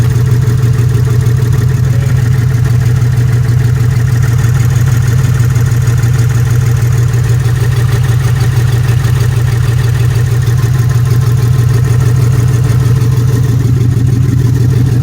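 A car engine idling rough and shaking after a coil swap to Grand Am coils, with a loud, close, steady low rumble and a pulsing, uneven throb throughout. No one talks.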